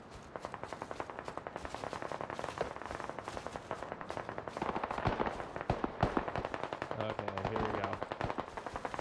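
Rapid automatic gunfire in the military shooter SquadOps, with dense, continuous bursts of close, sharp shots rattling in quick rhythm and a few heavier reports mixed in, and no talk over it.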